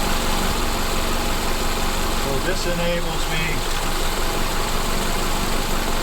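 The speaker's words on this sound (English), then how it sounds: "The engine's running" A Subaru engine with a hard-starting fault idles steadily with a loud, constant drone and vibration, while someone talks over it.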